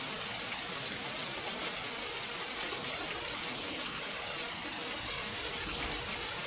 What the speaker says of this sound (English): It's also raining and I hope it's not picking up in my feed right now